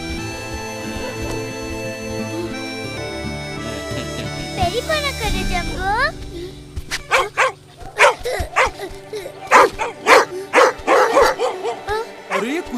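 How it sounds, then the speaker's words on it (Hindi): Several dogs bark in repeated sharp bursts, close and loud, during the second half. Before that come tonal background sounds, and a person speaks briefly. "अरे ये कुत्ते क्यों भौंक रहे हैं?"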